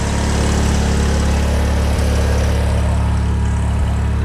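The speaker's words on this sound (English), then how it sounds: "I fired up the G8000" A G8000 generator runs steadily up close, a loud, unbroken low engine drone with a constant hum and no pauses.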